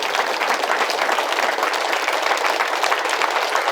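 A large audience applauding two masters at a spiritual gathering, a dense, steady wash of many hands clapping at once, loud and close throughout.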